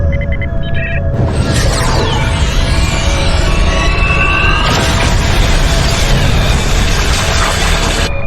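Powerful ship weapon in Star Trek Online firing down on a city, a loud booming blast with whooshing, sweeping energy tones that swell and roll on continuously, a second surge hitting midway.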